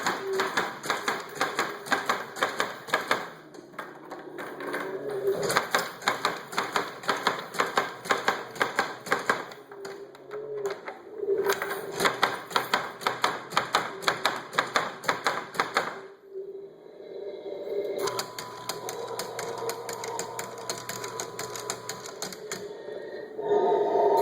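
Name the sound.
DIY Halloween monster-in-a-box prop mechanism running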